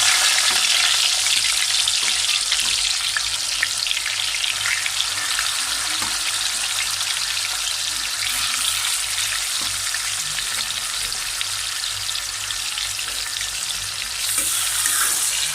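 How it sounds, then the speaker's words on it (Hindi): Chicken frying in a pan over high heat gives a loud, steady, close sizzle that holds evenly throughout with no talking. "आलू को निकालने के बाद हम अभी चिकन को फ्राई करेगा। चिकन को फ्राई करेगा हम लोग।"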